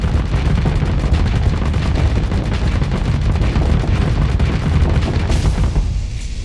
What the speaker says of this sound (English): Those flak cannons are actually going to be the death of me.